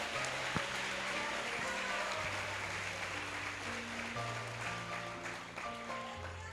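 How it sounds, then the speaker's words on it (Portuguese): A church congregation claps in a sustained, dense patter throughout, with keyboard or organ notes playing underneath at a moderate, even level. "Quem acredita, aplauda o mestre aí."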